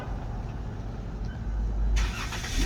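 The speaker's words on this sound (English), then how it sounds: "cold start on a 14 Town & Country" A 2014 Chrysler Town & Country van cold starts: a low idle rumble swells, then the engine catches with a louder, brighter rush near the end.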